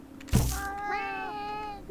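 A cat meows once in the REKA video game, a clear, drawn-out tonal call rising and then falling, following a short thump, close and fairly loud with no talking.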